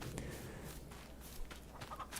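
Chickens cluck softly in Farming Simulator 22 on the Zielonka map, a busy coop ambience with short clucks and rustling over steady background noise.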